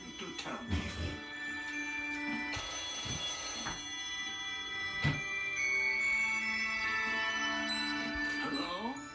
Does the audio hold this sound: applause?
no